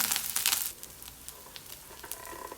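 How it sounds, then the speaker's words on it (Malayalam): Garlic and curry leaves sautéing in an oiled pan: a loud, hissing sizzle for the first moment that then settles into a quieter, steady crackle with faint stirring ticks. "കറിവേപ്പില ചേർത്ത് ഒന്നുകൂടി നന്നായിട്ട് വഴറ്റിയെടുക്കാം"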